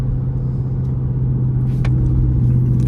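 A Dodge Charger R/T pulls hard, its engine a deep, steady rumble that holds loud and close and swells slightly as it accelerates.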